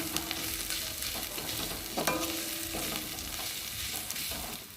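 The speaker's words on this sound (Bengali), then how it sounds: "দিয়ে আর একটু ভালোভাবে মশলাটা কষিয়ে নেব" Spice paste with salt, turmeric and chilli powder being stirred and fried in a pan for prawn malai curry, a steady soft sizzle with scraping stir strokes close by, no voices.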